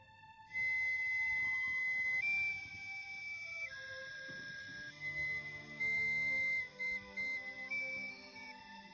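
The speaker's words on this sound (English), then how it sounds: "we get a whistle that sounds like this" A bright, sustained whistle with shifting pitch, held notes sliding up and down and breaking into short bursts near the end, clear and close.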